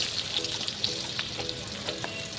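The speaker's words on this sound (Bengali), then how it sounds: "পেঁয়াজগুলি অনেকক্ষণ থেকে ভেজে নিতে হবে, ব্রাউন কালার হওয়া পর্যন্ত" Chopped onions and green chillies frying in oil in a wok, a steady close sizzle with occasional stirring scrapes and crackles throughout.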